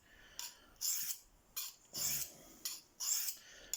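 A D2 steel knife blade is drawn across a Fallkniven whetstone in a steady rhythm of short rasping strokes, about six passes, close and fairly quiet with brief pauses between them.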